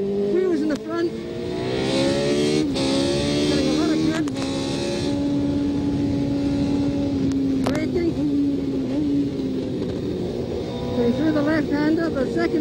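Tyrrell P34 six-wheel Formula One car driving on a circuit, its engine note holding steady then shifting pitch through the corners, loud and continuous with a commentator talking over it.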